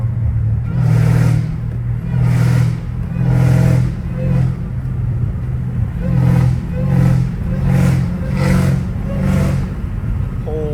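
A BMW M5 Competition engine revved repeatedly close by, a series of deep rumbling bursts that swell and fall back to idle in a steady rhythm.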